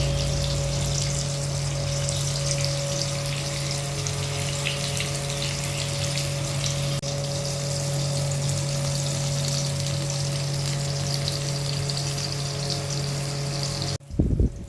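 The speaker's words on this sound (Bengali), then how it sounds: "এখন এগুলো ভেজে নেব" Steady, loud frying hiss of eggplant slices in oil with a constant mechanical hum underneath, continuing unbroken for most of the stretch before cutting off near the end.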